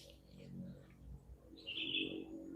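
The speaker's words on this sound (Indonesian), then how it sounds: "Seolah-olah suara burung itu membantu kita." Birds chirp in a forest, with one clear, bright call rising near the end over low rumbling movement and background murmur.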